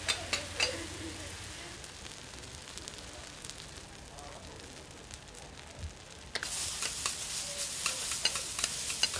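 Metal spatulas clatter and scrape on a hot griddle while Hiroshima okonomiyaki cooks, with steady sizzling underneath and a brighter burst of frying noise late in the stretch.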